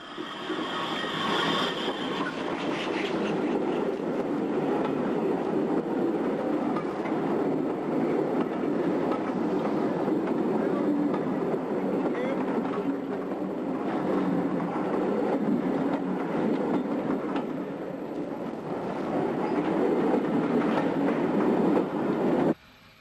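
A Q-Class 440 steam locomotive hauls a train round a sharp curve at the north end of Drogheda station, Ireland, in the 1950s: steady close rumble, continuous rolling roar, clattering wheels, faint squeals, loud for over twenty seconds.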